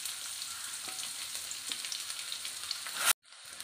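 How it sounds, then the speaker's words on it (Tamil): Small shallots fry in oil with popped mustard seeds and curry leaves, a bright, steady sizzle close up that cuts off abruptly near the end, then drops to a fainter hiss. "வெங்காயம் வந்து நல்லா வதங்கணும்."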